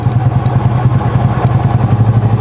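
A Honda Supra motorcycle engine runs steadily after its oil drain bolt was replaced, with a close, loud, even idle chugging throughout.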